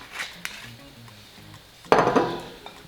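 Grapeseed oil and hibiscus body scrub being mixed in a bowl at close range, with a few light clinks and scrapes of a utensil against the bowl, then a louder burst of stirring and scraping near the end.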